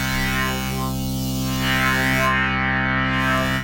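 A sustained waveshaping synthesizer tone with heavy distortion, washed in reverb and echoing delay, steady and loud with no voices.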